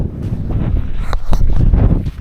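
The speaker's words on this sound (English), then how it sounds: "I hope you can hear me because it is a bit windy." Wind buffets a microphone with low, rumbling gusts that rise and fall continuously, loud and close, with no talking.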